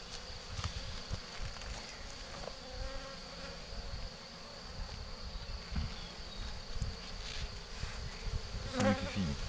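Honeybees buzz steadily around Spanish Layens hives being transferred from 6-frame to 12-frame boxes, a continuous close hum of many bees with occasional louder passes near the microphone.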